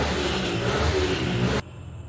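Motor traffic roars steadily past on a nearby road, a loud continuous engine rush that cuts off abruptly near the end and leaves faint background noise.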